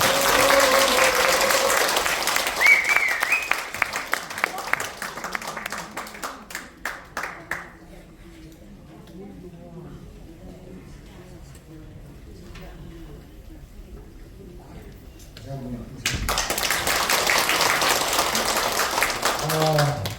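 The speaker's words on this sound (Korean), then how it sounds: "큰 박수로 환영해 주시기 바랍니다." A lecture audience claps to welcome a medical scientist giving a talk on nitric oxide: loud, dense applause opens, thins into a talking voice, then a fresh strong round of clapping returns near the end.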